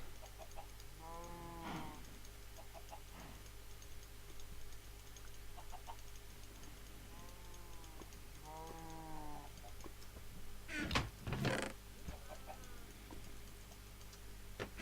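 Repeated low Minecraft cow moos sound at intervals, some overlapping, with faint ticking and a couple of sharp clattering noises near the end.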